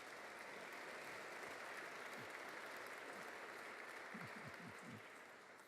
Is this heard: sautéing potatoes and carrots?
no